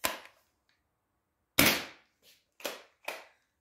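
Modded Nerf blaster firing flat-tip darts, heard as four sharp, loud pops: one single shot, then after a pause three more in quick succession with a faint click between them, close by.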